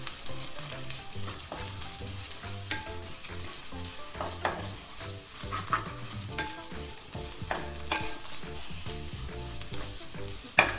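Shallots frying in a pan for a homestyle ayala fish curry, a steady crackling sizzle with repeated scraping stirs of a spoon throughout, close and continuous, no voices.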